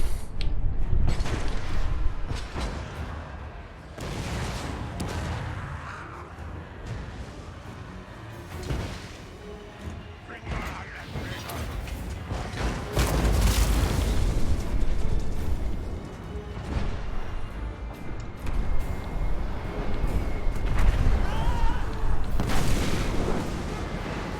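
A big mortar in the Pirates of Sartosa game fires and detonates again and again, heavy booms and bangs rolling through a long, dense battle din, with occasional voices underneath.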